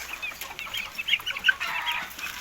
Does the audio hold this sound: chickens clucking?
yes